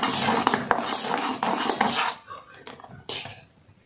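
Bread omelette egg mixture is whisked briskly in a bowl, a close run of rapid metallic clinks and scrapes that fades out near the end, with a final short burst.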